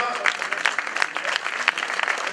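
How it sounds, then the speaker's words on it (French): Crowd applause at an outdoor cycling race podium ceremony, scattered sharp claps from a modest crowd, fairly close and uneven. "avec de nouveaux applaudissements, s'il vous plaît, pour le maillot vert."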